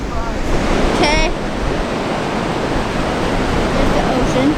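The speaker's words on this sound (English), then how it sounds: "There's the ocean." Ocean waves wash in at rocky tide pools, a loud, continuous roar of surf mixed with wind buffeting the microphone, with a brief voice-like tone heard once.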